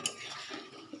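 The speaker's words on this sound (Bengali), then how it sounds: "গ্রেভিটা ভালো করে মিশিয়ে দিই" Gravy being stirred in a pan, a steady close scraping and swishing of a utensil against the metal with a light clink near the start, no voices.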